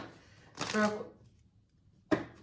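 A brief burst of tarot card shuffling, then a second quick riffle a moment later, close and fairly soft, with a voice murmuring in the background.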